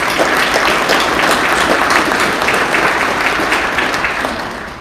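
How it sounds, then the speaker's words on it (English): Steady applause from a crowd, a dense wash of clapping that holds at a constant level before easing slightly at the end. "round of applause for all of you for supporting us"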